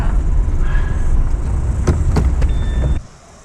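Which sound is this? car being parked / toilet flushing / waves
car being parked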